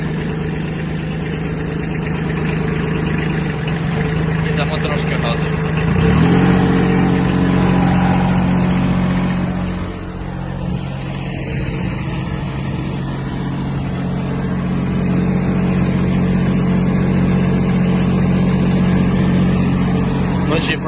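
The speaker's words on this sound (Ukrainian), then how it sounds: "Давайте тоді ще включимо вал відбору потужності." A Kubota B-1502 Japanese mini tractor's diesel engine runs steadily with the power take-off engaged, a loud, close, continuous drone whose pitch shifts briefly partway through, with no talk.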